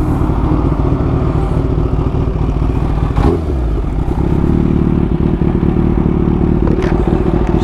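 Kawasaki H2 Carbon supercharged motorcycle engine running loud and close with a steady droning hum, a brief clatter near the middle, then the pitch shifts slightly as it carries on, no voices.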